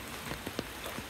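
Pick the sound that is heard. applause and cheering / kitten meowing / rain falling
rain falling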